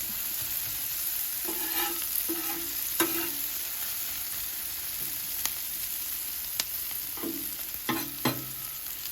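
Onions and meat fry on a Blackstone griddle for Philly cheesesteak, a steady hiss broken by several sharp spatula scrapes and taps against the flat-top, close up with no talking.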